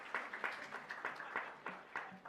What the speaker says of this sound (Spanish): Un aplauso grande porque está cogiendo frío